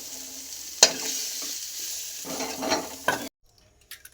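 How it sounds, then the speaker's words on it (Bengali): Chicken singara filling scraped from a pan into a bowl, with a sharp scrape, a stretch of soft sizzle and stirring, then a sudden drop to near silence with a few faint clinks. "এটা আমি সিঙ্গাড়ার পুরটা বাটিতে তুলে নিচ্ছি।"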